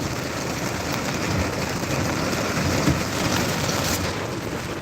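Heavy, torrential rain pours steadily outside amid traffic, a dense constant roar with thunder rumbling low underneath, loud and unbroken throughout.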